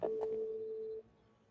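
A single steady electronic phone-line tone from a video game call that has just dropped, holding for about a second before cutting off, fairly faint and alone.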